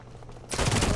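A sudden loud burst of gunfire in the video game Modern Warfare erupts halfway through after a low, quieter background, filling the rest of the moment with dense, close shots.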